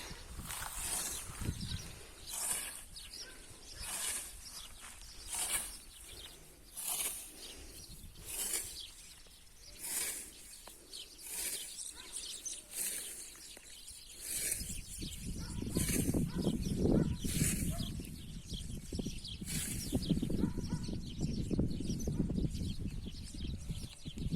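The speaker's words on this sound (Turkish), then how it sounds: "Kuş seslerini belki duyarsınız diye arkadaşlar." Birds chirping outdoors in a quiet rural setting, repeated bright calls at a steady spacing, with low rustling and soft background noise growing later.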